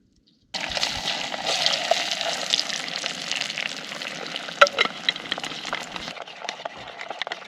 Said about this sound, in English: I'm just gonna dump in a couple of eggs and fry them up